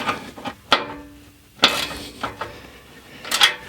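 A part on a Ford Mustang engine is being tightened, with sharp metallic clicks and clanks from the tool coming a few at a time, close and fairly loud.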